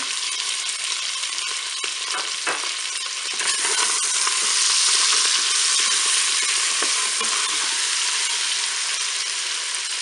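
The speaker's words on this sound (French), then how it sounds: "J'ajoute maintenant mes morceaux d'échalote." Shallot pieces sizzle steadily in a Cookeo electric multicooker, a continuous bright frying hiss that grows a little louder midway, with a few soft clinks of stirring and no voices.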